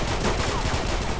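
Tank main cannon firing in the Roblox game Realistic Tank Simulator 2, a dense, loud burst of booming blasts that fills the short moment with no voices over it.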